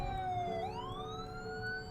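An ambulance siren wails loudly and continuously, its tone dipping and then rising again in a steady sweep, close by with a rumbling vehicle underneath.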